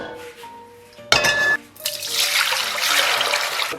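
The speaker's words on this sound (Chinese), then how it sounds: "然后咱们给锅里边来点水。" Water running into a cooking pot to boil Shin Ramyun instant noodles: a brief clink and splash, then a steady broadband rush of pouring water building and holding near the mic.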